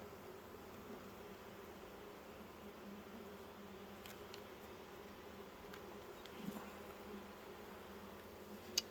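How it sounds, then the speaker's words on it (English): Honey bees buzz in a steady, low drone while a heavy frame is lifted during a yard hive inspection, with faint clicks and handling knocks near the end. "Very runny bees."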